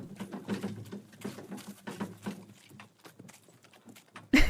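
Horse hooves clip-clopping in the video game Miss Clue: Trials of Salem, a steady run of hollow, close hoofbeats. A louder knock comes at the very end.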